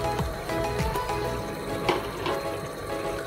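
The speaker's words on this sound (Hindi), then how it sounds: "थोड़ा सा पानी डालें" Water poured into a pan of cooking mutton qeema with cubed potatoes, a short close splash and trickle lasting a few seconds with a light sizzle underneath.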